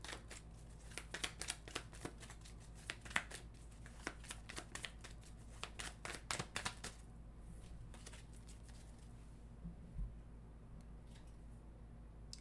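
Tarot cards shuffled and drawn by hand, a close, soft flurry of riffling snaps that thins out into a few quiet card pulls.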